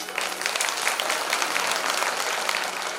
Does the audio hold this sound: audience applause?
yes